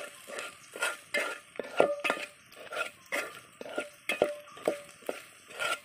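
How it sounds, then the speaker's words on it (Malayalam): A spoon scrapes and clatters rhythmically through a jackfruit pickle mixture in a pan, with repeated strokes roughly every half second and occasional metallic clinks, close and fairly quiet, and no one speaking. "ഇളക്കി കൊടുക്കുക. മിക്സാക്കി കൊടുക്കുക."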